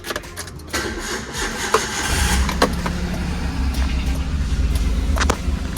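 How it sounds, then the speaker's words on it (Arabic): A 2022 Suzuki Alto's engine cranks for a moment after some faint interior clicks, then catches and settles into a steady, close idle heard from inside the car. "هندور العربيه ونشوف شكل العدادات بتاعت العربيه"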